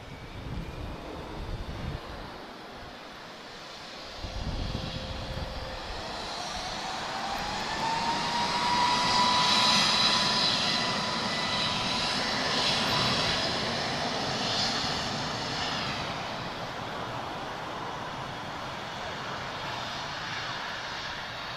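A jet airliner takes off at Lisbon Airport, its engine roar swelling to a loud peak and then holding as a broad steady rush mixed with wind noise on the microphone.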